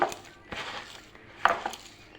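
Rice flour batter with black cumin, salt and turmeric is mixed by hand in a bowl: soft wet squelches and a few sharper utensil knocks against the dish come in short bursts with pauses between them.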